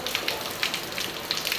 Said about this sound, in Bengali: ঝিরিঝিরি বৃষ্টি চলছে তো চলছে, চলছে তো চলছেই।